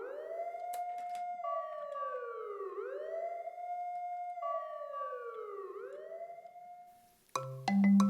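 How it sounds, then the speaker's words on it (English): A toy fire truck's wailing siren rises and falls in repeated sweeps, loud and steady, then cuts off into a brief clatter. "this is what happens when they get a call for a fire truck."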